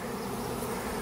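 Honey bees swarming around a hive outdoors, a dense continuous buzzing hum of many insects, steady and close, with no talking.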